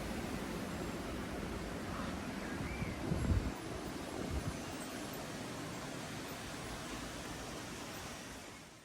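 Wind sweeps through leafy trees in a continuous, surf-like rushing roar, steady and fairly soft throughout, with a slight swell partway through.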